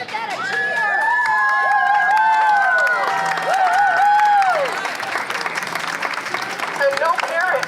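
A rally crowd in Knoxville gathered for common-sense gun laws cheers and applauds loudly and steadily, with high whoops and shouts rising over continuous clapping throughout.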